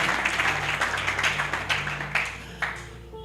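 A church congregation claps together in a burst of applause that stays steady at first, then thins out and fades toward the end.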